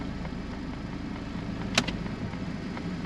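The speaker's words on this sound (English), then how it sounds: "we turn on the AC, put a load on the engine, it really starts to vibrate" A 2007 Chrysler PT Cruiser 2.4 engine with bad or broken mounts idles under load with the AC on, a steady low rumble heard close up from inside the car, broken by one brief click.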